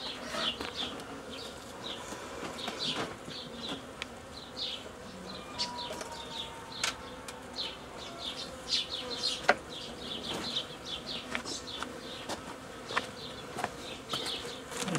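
Dense buzzing of many honeybees at an open hive box during queenless colony splitting, a steady swarm hum with short sharp flight buzzes passing close throughout, no voices.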